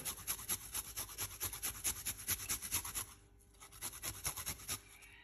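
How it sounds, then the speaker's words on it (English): Fresh ginger rubbed against a kitchen grater for a cup of tea, a steady rhythmic rasping of close, bright strokes that pauses briefly midway and then resumes. "Grate some ginger."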